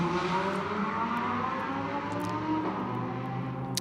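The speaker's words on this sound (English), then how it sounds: "The El Bamba Motorsport Run car accelerates now down the pit road." The El Bamba Motorsport Porsche race car accelerating down the pit road during qualifying at the Kyalami 9 Hour, its engine note rising steadily in pitch as it pulls away, heard from a moderate distance.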